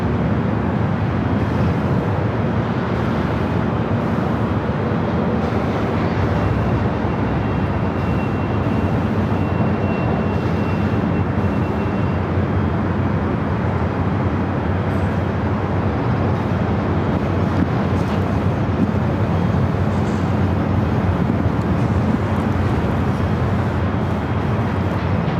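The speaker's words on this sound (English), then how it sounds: "China Airlines A350-900. Heading back to Taipei," A China Airlines Airbus A350-900 takes off from runway 25 right at Los Angeles airport as a steady, broad jet roar holds throughout, heard from a distance and mixed with wind noise.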